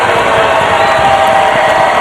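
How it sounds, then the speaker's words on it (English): A college basketball crowd at a UTSA versus Old Dominion game cheering, a loud, continuous roar of many voices filling the arena. "The crowd into it."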